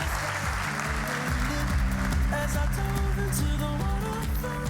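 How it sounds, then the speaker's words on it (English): Sustained applause from a conference audience at a business marketing summit, steady dense clapping filling the room with music playing underneath throughout. "Let's give these guys a big round of applause."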